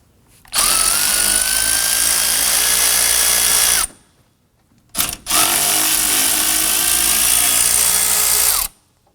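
Power tool driving a 10mm socket to loosen condenser bolts on a 2015-2024 Nissan Murano, two loud whirring bursts of about three and four seconds with a brief pause between them.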